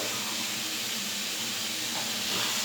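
Ground spice paste of garlic, cumin, ginger and dried chili sizzles steadily in a pan for egg curry, a dense continuous hiss at close range with no talking.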